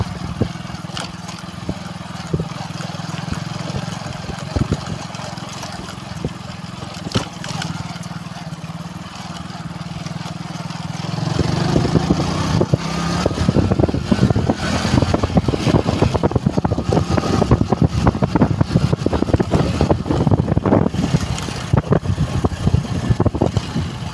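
A motorcycle engine drones steadily while being ridden one-handed, a quieter hum for the first stretch and then a louder, rougher rumble with road noise that holds to the end.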